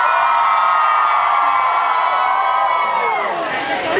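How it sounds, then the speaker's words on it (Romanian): A large crowd at the 2019 Cluj Pride march screams loudly in unison, a sustained, close, high-pitched collective yell that holds steady and then wavers and dips near the end. "Acum vom urla să se audă până în Mărăști."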